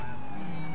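Police siren in the video game Grand Theft Auto IV, a steady wailing tone sounding loud and continuous through a brief moment, with faint background rumble.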